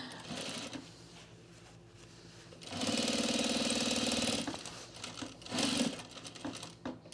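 A sewing machine stitches across fabric with a steady, fast mechanical whir and needle chatter, starting quietly, swelling to a louder sustained run in the middle, then easing back and picking up again briefly near the end.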